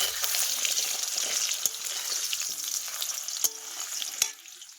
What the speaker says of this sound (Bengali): মশলা কষাই হচ্ছে